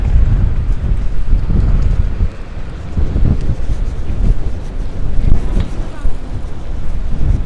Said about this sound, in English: And this wind is fierce and the snow is picking up.